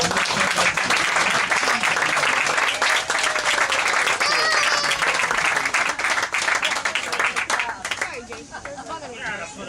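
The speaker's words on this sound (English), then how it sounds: "give Uncle Al a nice round of applause for taking it" A family crowd breaks into a long, loud round of applause and cheering for Uncle Al at his first playoff game, dense clapping and chatter holding steady before easing off near the end.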